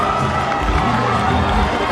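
Stands full of spectators at an under-18/under-20 athletics championship keep up a loud, continuous cheer and roar during a race, with scattered shouts rising over the dense crowd noise.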